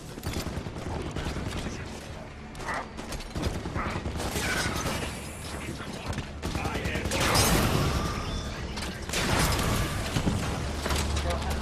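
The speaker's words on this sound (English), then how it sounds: "Turrets on and firing." Auto turrets in the Halo 5: Guardians campaign fire on Prometheans in dense, rapid mechanical bursts that run loud and nearly continuous through the battle, with other game sounds layered in.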